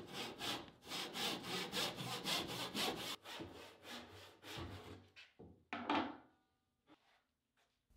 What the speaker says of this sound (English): I cut them to length with a handsaw because the dust collection on my miter saw isn't great